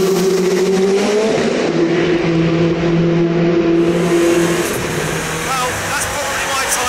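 1100 hp Nissan R90CK Le Mans race car driven hard on track, engine howling loud and steady from inside the cockpit, pitch rising and falling with throttle and gear changes.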